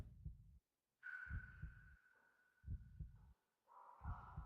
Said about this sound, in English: You can hear your heartbeat.